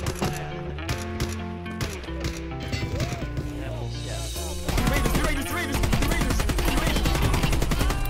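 Rapid gunfire in the video game Escape from Tarkov, dense bursts of sharp cracks and automatic fire that grow louder and busier partway through, with no talk over it.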